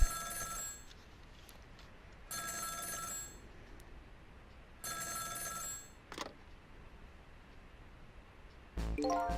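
A telephone rings in the Ghost Trick: Phantom Detective video game, three evenly spaced electronic ring bursts with quiet gaps between, followed by another sound starting at the end.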